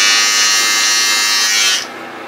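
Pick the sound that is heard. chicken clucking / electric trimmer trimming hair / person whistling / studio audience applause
electric trimmer trimming hair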